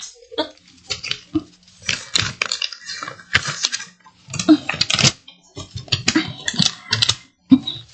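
A paper envelope full of photographs is handled and torn open: scattered crinkly rustles and sharp paper rips come in irregular bursts, close and fairly loud, with short quiet gaps between them.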